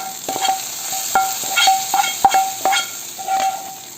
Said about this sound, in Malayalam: താളിപ്പ് നമുക്ക് മീൻകറിയിൽ ചേർത്ത് കൊടുക്കാം